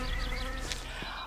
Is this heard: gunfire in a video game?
no